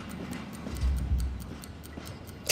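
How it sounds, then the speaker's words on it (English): A bomb ticks steadily in a tense scene from the TV drama Peaky Blinders, with crisp, evenly spaced ticks over a low, dark rumble that swells briefly midway. "I love how they have the ticking sound of the bomb in the background"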